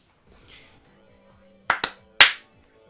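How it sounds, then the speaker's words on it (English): Three sharp claps from the video game Higurashi, two quick ones in close succession followed by a slightly louder third, over a quiet game-music background. "That's my 3 claps."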